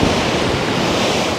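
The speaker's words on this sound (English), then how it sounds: "they push the wave back away from the wall and it really rolls together" Ocean waves surge against a seawall on the Thai coast and roll back, making a loud, continuous rushing wash mixed with wind buffeting the microphone. No voices are heard.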